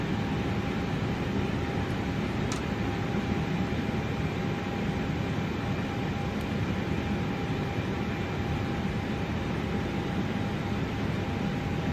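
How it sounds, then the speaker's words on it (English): Simulated Jet2 Airbus A321 engines spooling up for takeoff on runway 33 at Birmingham in Flight Simulator 2024, a steady, dense roar with a constant whine running throughout, heard from inside the aircraft. "as we start to roll out, throttling up as we enter into runway 33"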